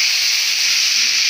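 A pinch of cumin frying lightly in a pan for cabbage bhaji, a steady, even hiss of sizzling oil, close and unbroken.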